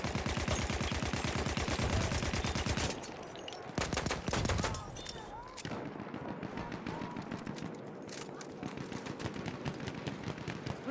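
Machine gun fire in a video game crackles in rapid, sustained bursts, loud and close, breaking off briefly before further volleys and scattered shots at a lower level; no talking.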